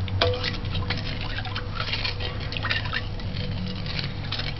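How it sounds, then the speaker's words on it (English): Water poured into homemade orange juice in a kitchen, a steady broadband liquid splashing and trickling that runs throughout, fairly close, with faint drips and no talk. "I'm gonna add water to this."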